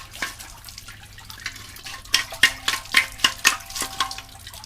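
Water gushes and splashes in irregular bursts while being flushed through a boat's water tank to push calcium deposits out, rising in a rhythmic series of loud surges after a quieter start.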